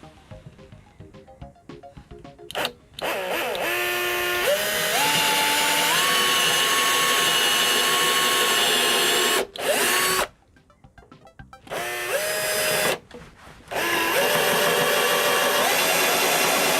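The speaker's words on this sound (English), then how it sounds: "I'm definitely gonna have to use my electric drill" An electric drill bores into a metal shelf cart, a loud, high-pitched whine in long runs that climb in pitch, broken by short pauses and brief restarts.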